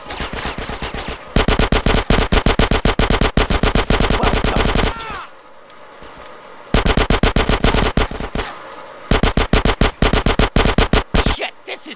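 Loud, rapid automatic gunfire in the video game GTA San Andreas, long sustained bursts of shots with a short pause in the middle, close and dominant with no talk.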